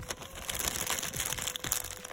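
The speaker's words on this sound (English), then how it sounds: "grip your plastic bag around it, and then cut" Plastic bag crinkling and crackling as it is gripped tightly around a small screw during an action figure bicep repair, a close, continuous rustle with sharper crunches throughout.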